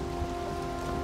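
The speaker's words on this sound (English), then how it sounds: "it's raining out in the ocean, but it's not a storm" Steady rain falling over the open ocean in the video game Valheim, a soft continuous hiss with a low tonal hum beneath, faint and even throughout with no thunder.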